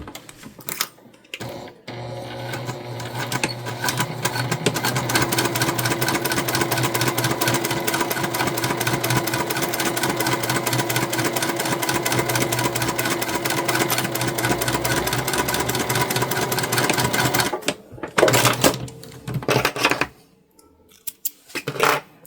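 Sewing machine stitching a zipper and fabric lining together for a handmade holiday scrap project, a steady mechanical whirring run lasting about fifteen seconds, close and loud, with short start-stop bursts before and after and no talking.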